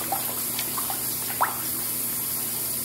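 Hot water runs steadily from a tap into a bathtub, a constant splashing rush with a few small drips and plops, close by and heard alone.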